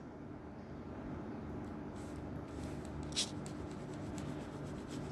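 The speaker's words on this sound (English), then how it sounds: "now I'm going to erase some of this" Chalk or marker writing is wiped off a classroom board with a soft, faint, continuous rubbing heard close but quiet, with one small tap partway through.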